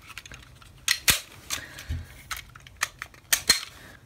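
Plastic parts of a realistic 1:1 scale 450 Adams Bulldog toy revolver clicking together as the frame clips onto the cylinder pin, several sharp close snaps and ticks with short pauses between them.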